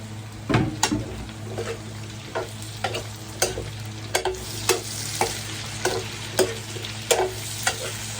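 Bell pepper sizzles and fries in a pan, with a spatula scraping and stirring at a steady rhythm roughly every half second.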